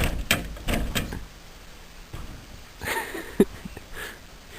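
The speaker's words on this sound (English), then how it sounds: "gonna attempt to open the door here" A house door is pulled open during a snowstorm in Carbondale, giving a few scraping, creaking bursts followed by a quieter stretch and then a sharp knock-like thump, with no one speaking.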